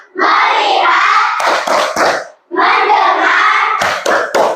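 Schoolchildren in a classroom perform the tepuk fokus clapping chant, voices chanting together in two bursts, each ending in a few sharp claps, loud and close.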